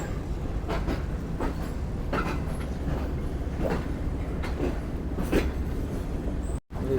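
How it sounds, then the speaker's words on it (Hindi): A Pakistani express train runs along the tracks on a curve toward the main platform at Khanewal. Steady, loud rumbling fills the clip, with rhythmic wheel clacks and faint wheel squeal, ending in a brief dropout. "ट्रेन कर्व होते हुए दूसरे जो ट्रैक पे जा रही है मेन प्लेटफार्म खानेवाल की जानिब"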